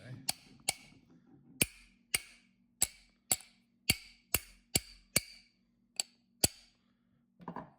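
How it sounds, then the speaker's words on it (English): A dozen sharp metallic whacks from a ratchet used as a hammer to tap a part flush, struck at an irregular, fairly steady pace, close by, with a low hum in the background. "We'll use this other ratchet here as a hammer."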